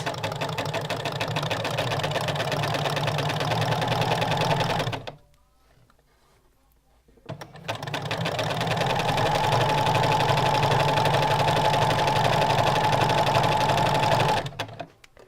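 Sewing machine running steadily as it stitches lace bunting, a continuous mechanical whir that stops for about two seconds midway and then resumes at the same pace, close and fairly loud with no talking.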